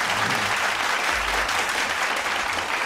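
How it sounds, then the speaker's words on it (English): Steady applause from a small group celebrating a nephew's seventh birthday, continuous clapping that fills the clip at a constant level with no pauses. "Clap that up"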